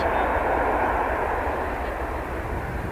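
An airplane at DFW Airport gives a steady, loud broadband roar that holds without letup for the whole stretch, with no clear voices on top.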